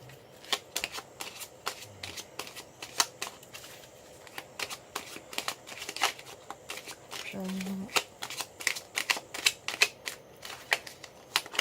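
Tarot cards are shuffled close up in a rapid run of crisp riffles and flicks that continue steadily for the whole stretch, with brief low murmurs underneath.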